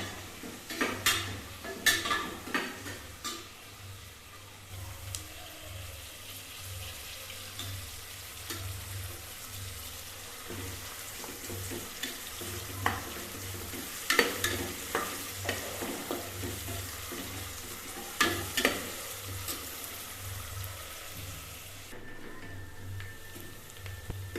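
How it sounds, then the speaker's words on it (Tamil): Onions frying in hot oil for a pumpkin biryani, with a steady sizzle under repeated stirring scrapes and clinks of a utensil against the pot, continuous at moderate level with no talking. "வெங்காயம் பாருங்க நல்லா ஃப்ரை பண்ணி இந்த ஸ்டேஜ் வந்துச்சு"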